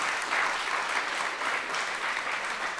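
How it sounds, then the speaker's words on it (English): A large church-style audience claps steadily and loudly throughout, a dense, even wash of applause with no voices standing out. "Clap your hands like you're going to take your family to a whole different level."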